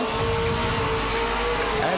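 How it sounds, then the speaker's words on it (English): A Ford XY GT Falcon at a burnout competition holds its engine flat out against the rev limiter, a loud, steady, unbroken roar that stays close and constant, with faint tire squeal mixed in. "Absolutely full on up there on the limiter."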